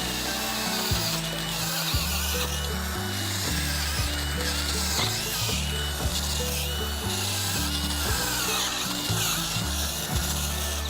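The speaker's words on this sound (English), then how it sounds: "we drill a few holes around in a cluster, and then we move it sideways" A Power Planter garden auger drills holes in soil: a steady, close motor drone whose pitch sags and recovers over and over as the bit bites into the ground and is shifted sideways, running continuously without speech.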